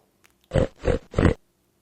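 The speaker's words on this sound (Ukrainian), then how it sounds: "It's a pig." Three short, gruff pig oinks in quick succession, close and fairly loud, with a brief pause between each grunt and quiet before and after.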